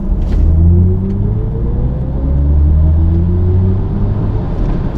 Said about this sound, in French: Hans Zimmer a été payé par BMW pour créer la bande son de cette i4 M50